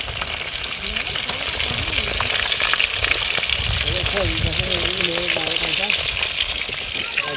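Fish and liver fry in a pan with a loud, continuous sizzle and crackling spatter, while people talk intermittently over it.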